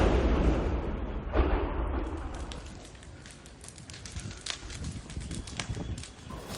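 A Shahed drone strike explodes in Kyiv: a loud, close blast rumbles at the start, another sharp burst follows, then crackling debris and clatter continue at a lower level.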